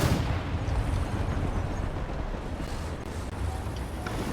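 Rumbling booms of bombs exploding in a tank video game, a dense low roar that continues throughout the clip with no clear separate blasts.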